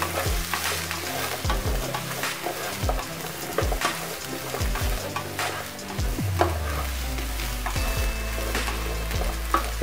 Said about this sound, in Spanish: vamos a esparcir un poco el aceite y vamos a proceder a agregar la cebolla. Movemos un poco